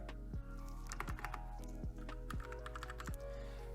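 Keys clack on a Royal Kludge RK84 80% mechanical keyboard with RK brown switches, a close, steady run of crisp taps with a few heavier thocks mixed in.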